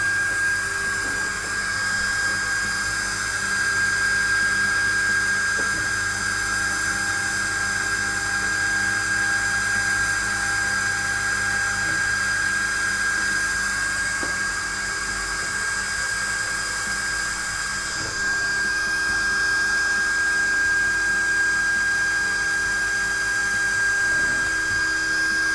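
An Opt Laser module on a Hasse Cut2500s CNC machine runs a test, producing a steady high-pitched whine with a constant hum beneath, unbroken and fairly loud throughout.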